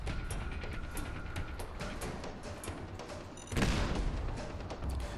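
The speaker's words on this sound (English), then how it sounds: "I'm gonna throw the last frag mine just because why not?" Frag mine detonation amid continuous gunfire in a modded Fallout 4 zombie horde fight, with steady crackling shots throughout and a sharper, louder blast near the end.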